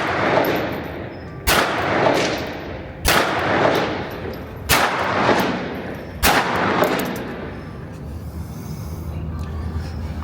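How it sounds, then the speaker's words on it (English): Five rifle shots fired over Athlon Rangecraft Velocity Pro and Garmin Xero chronographs at a range, each a sharp loud crack followed by a rolling echo, spaced evenly about a second and a half apart. "All 5 shots recorded on the Athlon."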